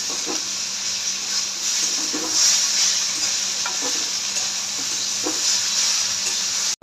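Bitter gourd slices fry in a wok with a steady close sizzle and hiss, accompanied by intermittent soft scraping and stirring sounds throughout.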